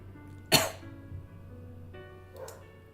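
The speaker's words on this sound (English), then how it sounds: "I still have the cough, even after all this time." One sharp, close cough, followed by quieter breathy sounds in an otherwise quiet room.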